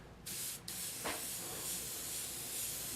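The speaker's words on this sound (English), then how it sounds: "Now I'm just going to mist this over this." A spray bottle mists with a few sharp, close hissing bursts in quick succession.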